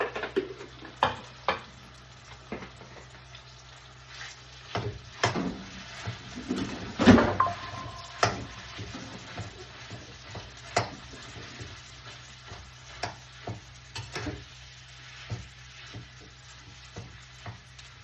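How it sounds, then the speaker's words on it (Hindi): Sweet potato halwa frying in a pan makes a low, steady hiss, with irregular clinks and scrapes of stirring that peak in a brief cluster midway and then return to sparse taps. "जब तक मैं फ्राई करती हूँ आप वैष्णव भजन सुनाइए।"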